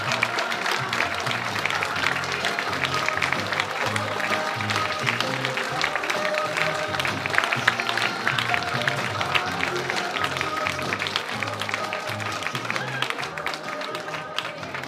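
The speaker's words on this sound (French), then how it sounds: "Je vous demande donc d'applaudir bien fort Renaud Evaliotis" Sustained applause from a crowd at a fashion and fabrics fair in Sainte-Marie-aux-Mines, dense clapping continuing throughout with a voice faintly under it.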